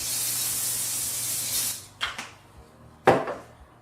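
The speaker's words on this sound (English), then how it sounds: "I have a can of spray olive oil." Olive oil cooking spray hisses steadily from a can onto a pan for nearly two seconds, close and fairly loud, followed by a few short kitchen clatters.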